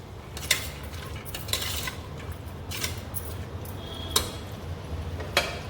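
A utensil stirs dill and fenugreek leaf pulao, made without onion or garlic, frying in a metal pan. Sharp scraping clinks come every second or so over a low, steady background, with no one speaking.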